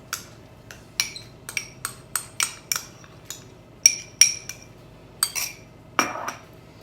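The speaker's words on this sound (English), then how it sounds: "I'm going to add the half mashed banana I have here." A metal spoon clinks repeatedly against a bowl while half a mashed banana is scraped in, a series of sharp, close taps in an uneven rhythm with no talking.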